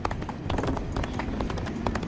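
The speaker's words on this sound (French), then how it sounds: "Et on entend un galop de cheval." Horse hooves gallop in the video game This Land is My Land, a quick irregular clip-clop of many beats over a low rumbling background, fairly close.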